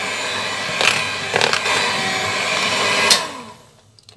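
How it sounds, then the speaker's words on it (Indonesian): Steady whir of an electric mixer beating pandan sponge cake batter, loud and close, with a few brief knocks against the bowl before the motor winds down near the end. "masih akan menggunakan mixer"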